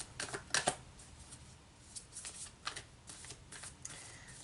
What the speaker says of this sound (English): I'm going to pull a card from the Spirit Animal Oracle deck.